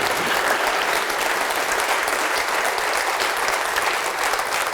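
Dense, sustained applause from a large church congregation, steady and loud throughout with no pauses.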